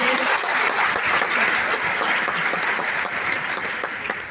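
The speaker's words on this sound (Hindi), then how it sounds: "एक बार जोरदार तालियां हमारी मैडम के लिए" A dense, loud burst of applause from an audience, honoring a madam at a gathering, holds steady throughout and tapers slightly at the end, with no voices over it.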